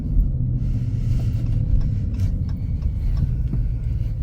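A Dodge Challenger Hellcat Widebody cruises along, its engine a steady, deep, loud rumble from inside the cabin with no distinct revving.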